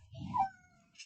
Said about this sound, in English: Shush, cat.